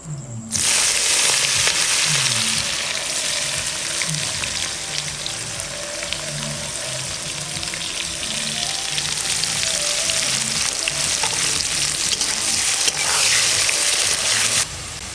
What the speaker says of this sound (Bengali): পেঁয়াজ খুব সুন্দর ভাজা হয়ে গেছে